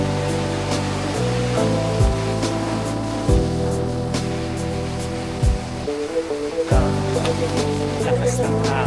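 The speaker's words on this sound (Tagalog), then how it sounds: "Lakas ng hangin, grabe." Strong wind roars over crashing waves on a Boracay beach, a dense continuous wash of surf with a few brief gusts and bumps close to the microphone.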